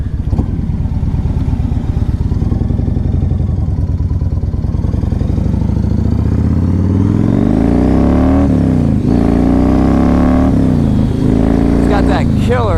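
A Yamaha Raider motorcycle with a 113 cubic inch V-twin revs up and down loudly and close by, its throttle swelling in repeated pulls over a steady low engine rumble.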